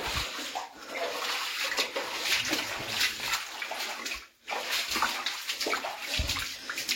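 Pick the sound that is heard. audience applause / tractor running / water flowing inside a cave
water flowing inside a cave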